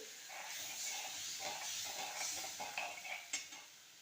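Half a cup of salted water heating in a pan toward a boil for Maharashtrian patvadi, giving a steady bright hiss with faint bubbling and a few small clinks near the end, no talking.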